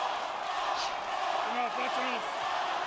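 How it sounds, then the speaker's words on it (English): Boxing-match crowd in an arena chanting a fighter's name in three quick repeated calls, rising over a constant roar of spectator noise. "Crowd is chanting Paul, Paul, Paul, trying to lift Williams"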